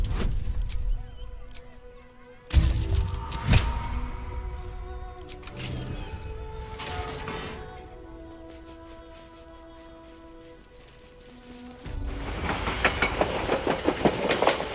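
Train sounds in the video game Baldur's Gate 3, with rolling rail clatter and rumble, shifting tonal squeals and hums, and a louder burst of rattling toward the end, no talking.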